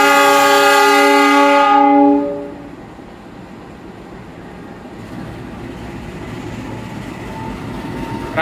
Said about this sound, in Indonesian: Jalur 6 baru saja berangkat KRL.